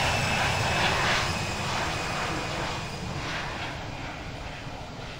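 An airliner taking off from a runway at Dallas Fort Worth International Airport, a broad, loud engine roar that holds steady and then slowly eases as it moves away.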